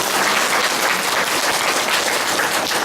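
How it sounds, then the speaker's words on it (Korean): A church congregation claps steadily in praise at a worship service in a new sanctuary at a Goyang disability welfare center, a dense, sustained wash of many hands that stays even throughout. "우리 주날개 그늘교회를 세우신 하나님께 찬양과 영광의 박수를 올려드립니다."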